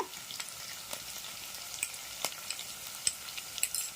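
Ginger garlic paste sizzles softly in a hot pan while a curry of drumsticks and tomato is being made, a steady low crackle with scattered sharper pops and light stirring scrapes, fairly quiet and with no talking.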